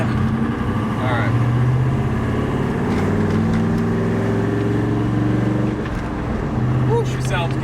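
A turbocharged 2.0 2v car engine drones steadily and loudly while driving with the windows down, a low rumbling hum that holds throughout, with a voice briefly heard over it.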